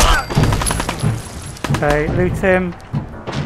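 Gunfire from a Fallout video game: rapid bursts of shots in quick succession, fairly loud, mixed with someone speaking over the action.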